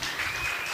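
An audience applauding at a youth day event in Nyamira County, Borabu, a short burst of dense, steady clapping heard at a moderate distance.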